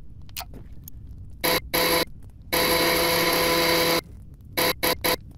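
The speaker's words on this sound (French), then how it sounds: "La perceuse!" A power drill in the Blade & Sorcery VR game whirs in loud bursts: several short revs, then a sustained whine of about a second and a half, followed by quick stuttering spurts, with no talking.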